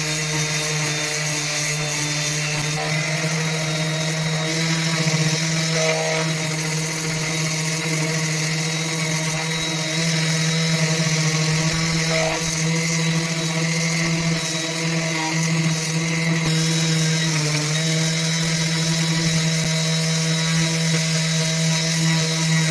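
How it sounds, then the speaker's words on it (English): Continuous droning whine of a power sander sanding fiberglass trim close by, with a strong buzzing hum and slight shifts in pitch as it works. "Let's get this trim sanded."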